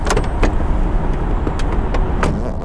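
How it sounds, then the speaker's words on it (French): A car pulls up close in an audio drama scene, its engine rumbling loudly and steadily with a few sharp clicks and knocks on top, and no voices over it. "Oh, la bagnole est là, cool."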